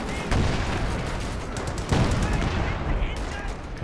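Rattling bursts of machine gun fire and mixed gunfire from a Company of Heroes 2 battle, dense and continuous, with commentary talking over the combat.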